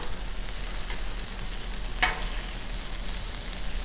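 Kababs on skewers sizzle steadily on a Blackstone griddle, a loud continuous frying hiss up close, broken by one brief scrape or clatter as they are flipped; no voices.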